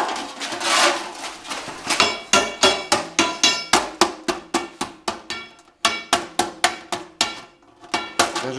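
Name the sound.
hammering sheet metal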